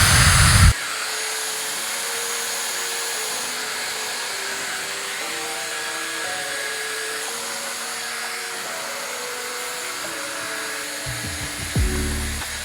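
A Dyson Airwrap hair styler runs steadily at medium speed and medium heat, a close, even airy whoosh with a faint whine that holds for about ten seconds after a brief louder burst at the start.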